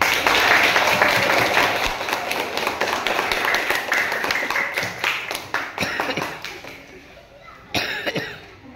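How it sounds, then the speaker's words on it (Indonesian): Classroom audience applause during a lesson, a dense patter of many hands clapping that stays fairly loud throughout, thinning toward the end with a few scattered claps, with voices murmuring underneath. "ini beri tepuk tangan dulu"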